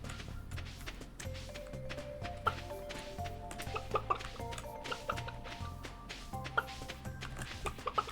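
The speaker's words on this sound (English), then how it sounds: "we can pet all the little chickens now" Chickens cluck softly on a Stardew Valley farm, with short repeated clucks and game tones and chimes over a steady background of in-game music, with no voices.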